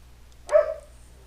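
A dog gives a single short bark nearby, one brief sharp yelp standing out against a quiet background hum.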